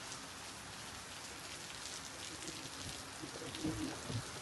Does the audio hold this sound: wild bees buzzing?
no